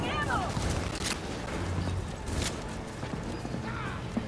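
Gunfire in Cyberpunk 2077, with a few sharp shots and short bursts cracking through a busy mix of game noise, loud and close.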